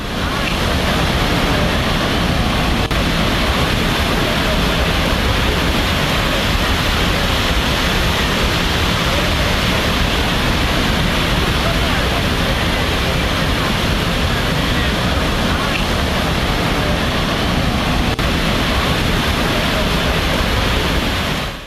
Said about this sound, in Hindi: पानी का बहाव देखिए जरा